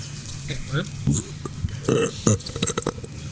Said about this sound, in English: let out an out of character, very loud belch